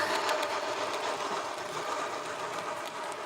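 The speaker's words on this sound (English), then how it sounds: "So I'm gonna stop talking and drive this train." A model train runs steadily on a layout's main line, a continuous close whirring rumble of motor and wheels on track with no talk over it.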